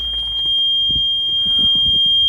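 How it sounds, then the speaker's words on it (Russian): A continuous high-pitched electronic tone whines steadily inside a Nissan Leaf in freezing weather, from a car faulting with a gear-indicator problem and refusing to drive, with low rumbling thumps and handling noises underneath. "отсюда что-то жестко пищит"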